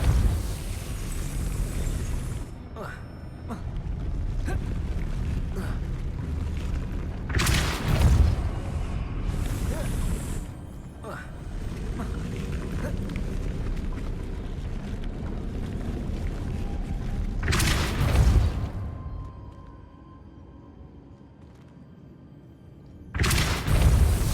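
Depulso force spell cast repeatedly in the video game Hogwarts Legacy, heard as several loud booming bursts spaced several seconds apart over a low rumbling ambience.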